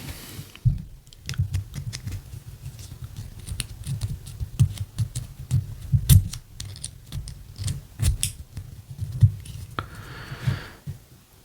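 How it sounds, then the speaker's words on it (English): Scissors being handled beside a PS5 and SSD: small clicks and snips come irregularly over a low steady hum, with a few louder knocks between. "we have some scissors to ground ourselves"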